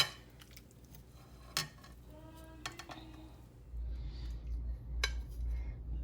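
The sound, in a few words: serving potato au gratin onto a plate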